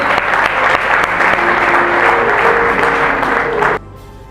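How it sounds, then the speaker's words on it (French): Dense audience applause at the opening of an award ceremony, steady and loud for nearly four seconds before cutting off abruptly. "Est-ce qu'on peut applaudir, s'il vous plaît?"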